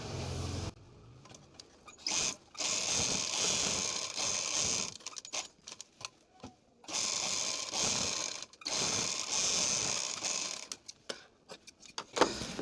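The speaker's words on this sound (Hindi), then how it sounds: "हम चलते हैं मशीन पे और इसे सिलाई करके बताएंगे" A sewing machine stitches suit fabric in steady mechanical runs of rapid clattering, starting and stopping several times with brief gaps between bursts, close by and moderately quiet.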